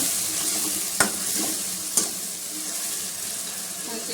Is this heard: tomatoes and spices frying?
yes